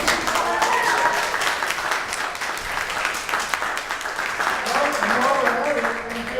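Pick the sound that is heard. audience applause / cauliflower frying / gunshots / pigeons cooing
audience applause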